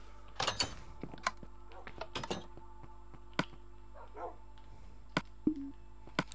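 Several sharp, isolated dog barks and yips from Minecraft dogs, spaced irregularly over a quiet background with a faint steady hum and a soft whimper.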